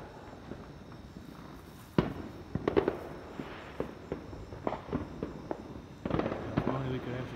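Independence Day fireworks pop and crackle at a distance, scattered sharp bangs and bursts arriving irregularly, with a cluster of reports near the end and faint voices in between.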